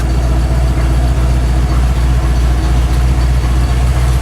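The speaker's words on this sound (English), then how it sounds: "When I put my headlights on, let's see if it idles down." Ford F150 engine idling with the headlights switched on, a close, loud, steady low rumble with an even pulsing rhythm and no voices over it.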